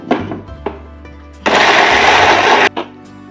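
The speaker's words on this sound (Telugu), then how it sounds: "ఇది పేస్ట్ చేసుకుందాం మిక్సీలో." A kitchen mixer grinder pulses on fried onion and green chilli paste: a few short whirring bursts, then a loud, sustained grinding roar for over a second, then another brief burst, close by.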